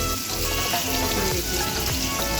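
Mixed vegetables, including ridge gourd and tomatoes, crackle and sizzle in a hot pan in a brief, continuous frying hiss with faint background music.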